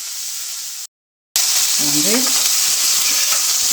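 Curry leaves crackle and sizzle in hot oil, a loud close frying hiss that cuts out briefly and then returns with a spatter of bursts, while a voice speaks over it.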